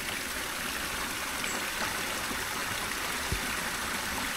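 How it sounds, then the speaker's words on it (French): Iron-rich water from a small waterfall trickles and splashes steadily into a small pond, a constant close, gentle rush with no voices. "Nous avons un petit bassin et ici nous avons la petite cascade."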